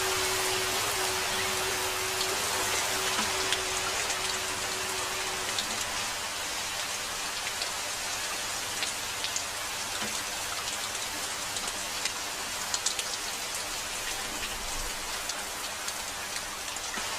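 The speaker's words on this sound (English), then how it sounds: "rain has come, even before we have finished sowing the seeds!" Steady rain pours down continuously, a dense even hiss of drops on surfaces with a faint low hum beneath, and no voices throughout.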